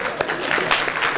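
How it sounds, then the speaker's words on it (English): A live audience claps for a short burst during a talk, dense and fairly loud, with a voice or two mixed into the crowd noise. "Give yourself a round of applause."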